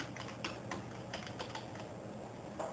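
Computer keyboard typing a folder name: a quick run of light, close key taps over a steady background hiss, a few louder strokes standing out; no one talks.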